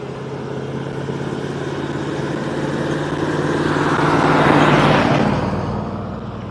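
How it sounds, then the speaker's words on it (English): A truck on the road near Seneca, its engine laboring and sounding mechanically strained, a steady broadband roar that swells louder toward the middle before easing back, with no voices over it. "This truck sounds like it's struggling mechanically as well."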